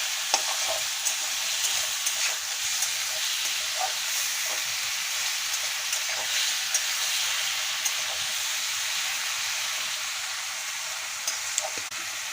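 Tomatoes and ground bean paste sauté in a pan for a Bengali bati chorchori, giving a steady, close broadband sizzle with faint scattered ticks and stirring scrapes throughout, no voices.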